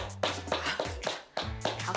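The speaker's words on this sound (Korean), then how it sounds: "제가 박수 쳐드릴게요." Hands clapping at home, about seven sharp, fairly quiet claps in a steady rhythm, close by with a short gap near the middle.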